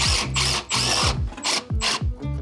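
Power drill driving GRK structural screws into lumber for a porch build, used in place of 1/2-inch lag bolts; four loud, close motor bursts that wind up and bog down, with short pauses between them.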